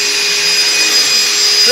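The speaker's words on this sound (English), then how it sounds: "right now just a regular vacuum cleaner" A regular household vacuum cleaner runs steadily and close by, a constant whining hum with an airy hiss and no pauses throughout.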